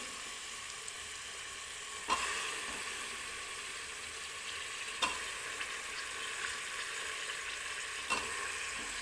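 Parboiled potatoes sizzle and fry steadily in a hot pan, a constant hiss broken by three sharp clinks of stirring spaced a few seconds apart.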